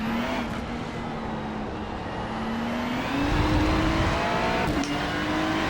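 Race cars in a racing video game drone steadily with a sustained engine tone that rises in pitch and swells louder midway, as another car passes close by.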